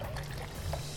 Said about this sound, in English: 2 cans of water going in.